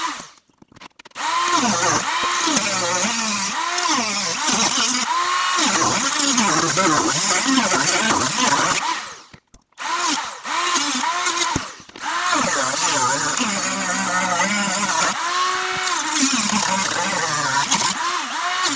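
A power tool cuts through a Sprinter van roof with a loud, continuous grinding whine, pausing briefly twice before resuming.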